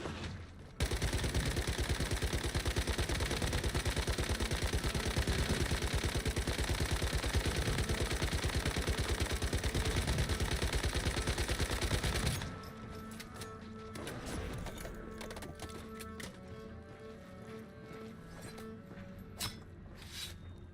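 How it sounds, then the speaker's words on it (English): A turret in the survival shooter Once Human fires a long, rapid, unbroken burst for about twelve seconds, then quieter game noises and footsteps follow. "Hear that fucking turret shooting again."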